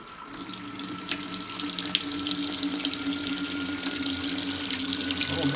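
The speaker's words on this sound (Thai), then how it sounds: "แล้วก็ทำการสตาร์ทครับ เพื่อให้น้ำไหลเข้ามาในเครื่องครับ" Water rushes steadily into a washing machine with a constant hiss and a low mechanical hum underneath, close and continuous.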